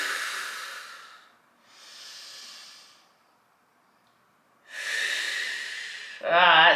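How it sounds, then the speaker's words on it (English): Slow, deep breathing during a back and hips stretch: long airy inhales and exhales, close and clear, separated by a silent pause, ending with a short voiced sigh. "And then we deep breathe"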